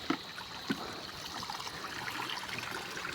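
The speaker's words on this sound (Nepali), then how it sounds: "पानी चाहिँ ओभरफ्लो हुँदैछ" Water overflowing from pipes gives off a steady, moderately close trickling rush that runs without a break. Two brief louder splashes stand out near the start.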